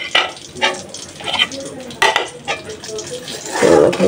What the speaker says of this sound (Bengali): সাথে একটু পেঁয়াজও ভাজবো আর ডালি কুমড়া ভাজবো